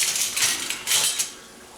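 Rice pirogue dough being mixed with flour in a bowl, giving soft scraping and clinking of a utensil against the bowl in short irregular strokes, close and fairly quiet.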